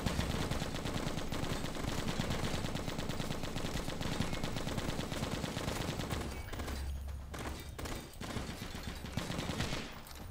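Gunfire in the zombie shooter game Left to Survive: dense automatic bursts rattle continuously and loudly, with a short lull near the end before firing resumes, and no speech.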